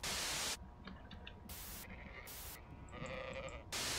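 Sheep bleating in the horror game Amanda the Adventurer, a few separate cries in a quiet scene between bursts of loud static.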